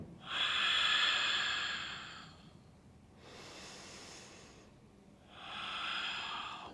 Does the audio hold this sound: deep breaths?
yes